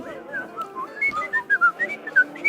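A person whistles a jaunty, bouncing tune of short chirpy notes, close and clear, as a character enters during a tabletop role-play session.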